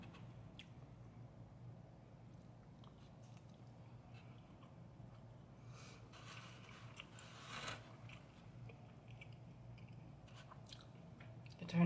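Someone eating alone chews food close up, with soft, irregular wet bites and crunches over a faint background hum, quiet throughout and ending in a sudden louder bump.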